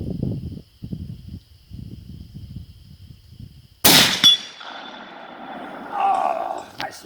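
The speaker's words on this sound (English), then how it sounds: "You just got to let that gun go off" A Ruger No. 1 single-shot rifle fires a .45-120 round: one sharp, very loud, close blast followed by a ringing, decaying tail, after several seconds of quiet low rustling.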